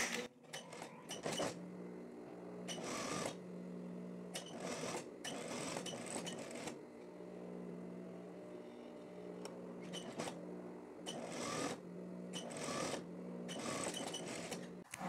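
A sewing machine stitching the side seams of a plaid shirt runs in repeated short bursts with quiet pauses between them, close and distinct.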